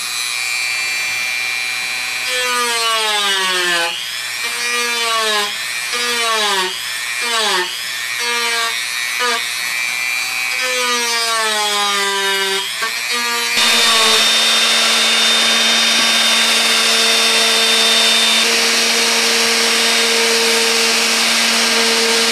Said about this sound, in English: So definitely pays to practice a little with the Dremel tool before you start sanding something good.